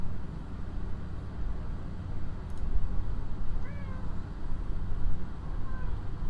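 A hungry cat meows a couple of times, short rising-falling calls fairly faint over a steady low hum of room noise.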